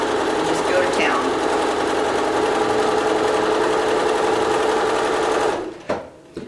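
A sewing machine chain pieces small fabric spikes onto background pieces for a quilt border, a close, loud, steady mechanical whir that runs continuously and then cuts off near the end, followed by a few brief clicks.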